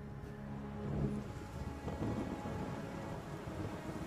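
Thunderstorm in Ori and the Will of the Wisp: steady rain and wind with low rumbles of thunder swelling twice, a dense continuous wash with no voices.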